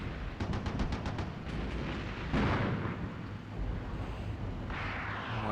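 Gunfire striking an Abrams tank in the Cold War combat game Armored Brigade 2: a rapid string of metallic impact cracks, then heavier booming hits and rumbling over steady battlefield noise.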